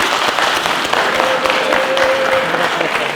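Audience applause for the winner of an amateur YouTuber-versus-boxer bout, a steady dense clatter of many hands clapping close by for the full stretch, with a faint voice or whistle briefly drifting through the middle.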